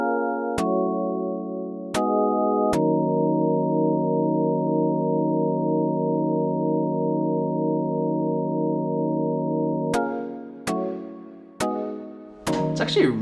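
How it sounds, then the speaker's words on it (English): A Korg Volca FM 2 digital FM synthesizer plays dry notes and chords one after another, including a long sustained tone, with brief plucky attacks toward the end and no echo. "Let's just hear what some of these patches sound like without the reverb and the chorus."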